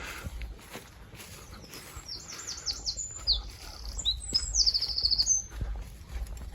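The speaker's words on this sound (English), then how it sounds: "Hear the birds singing." Birds chirp and trill on a farmland path near the Norfolk coast, with a string of high, quick sweeping calls that grow busier toward the end over a low outdoor rumble and faint footsteps.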